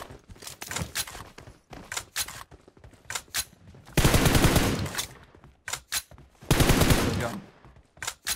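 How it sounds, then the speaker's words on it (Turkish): Shotgun fire in PUBG, loud repeated booming shots in short bursts with gaps between them, two longer sustained roaring blasts in the middle, close and punchy. "Pompalı var gene."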